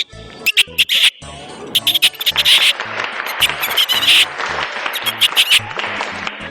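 A voice mimics lovebirds with rapid, shrill chirps and squeaks in quick clusters, close and loud, against a background of crowd noise and what sounds like scattered clapping.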